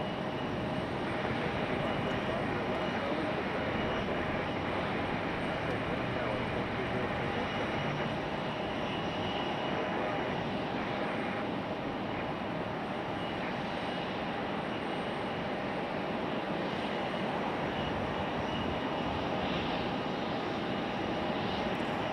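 A fixed-wing airliner landing in strong gusty wind at Raleigh-Durham International Airport, heard as a loud, steady engine roar with wind rush that holds constant throughout, with no talk.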